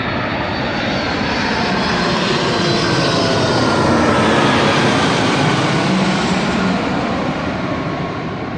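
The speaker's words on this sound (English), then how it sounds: "There's an airplane." An airplane passing overhead in San Diego, a loud sustained engine roar that swells gradually toward the middle and eases slightly, with no voices.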